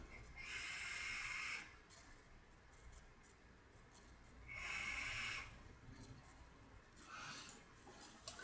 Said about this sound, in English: I'm gonna have another vape while we're talking.